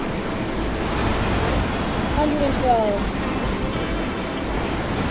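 Roaring tornado wind in the Roblox game Twisted, a steady broadband rush with gusts swelling under a voice speaking over it.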